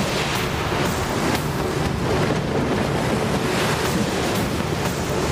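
Floodwater of the Kabul River rushing at Naguman near Charsadda, a loud, continuous broadband roar of churning water with wind buffeting the microphone, steady throughout with no voices.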